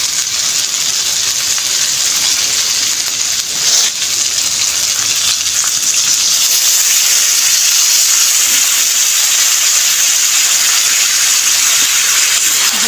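Masala spice paste sizzles fiercely in a pan as water is added, a loud, steady hissing and steaming that holds unbroken, with no talking.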